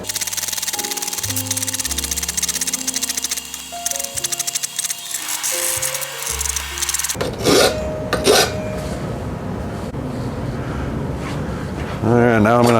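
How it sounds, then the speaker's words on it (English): Steel bicycle frame tube being hand filed after a hacksaw cut, with rhythmic rasping strokes under a mechanical tonal drone at first, then louder, irregular scraping passes near and clear. "now I'm gonna file it the other way"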